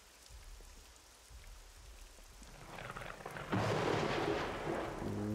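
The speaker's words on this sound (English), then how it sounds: "that thunder and lightning is just a bit sketchy" Rain and thunder in the survival video game SCUM: steady rainfall grows louder, then a heavy rumble of thunder rolls in, with no talk over it.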